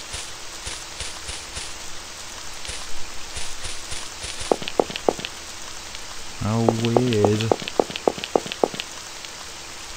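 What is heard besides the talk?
rain falling in a video game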